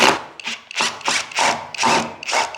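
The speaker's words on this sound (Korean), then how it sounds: "그 다음 경첩을 풀어주고요" Screws are backed out of an old wooden door's hinges with a power driver, a series of about six short grinding, rubbing bursts with brief pauses between them, close and fairly loud, with no talking.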